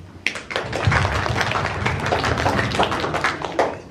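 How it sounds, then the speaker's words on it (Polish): A group claps together, a dense, fairly loud patter of hands that carries on steadily for several seconds with no voices over it. "Oklaski."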